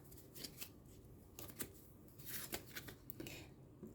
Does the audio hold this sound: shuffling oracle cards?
yes